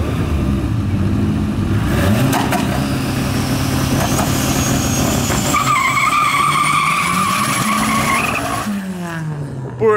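Naturally aspirated race car doing a burnout at the start line to warm its tyres: a continuous loud tyre screech with a droning, rising engine over about ten seconds, close, fading at the end.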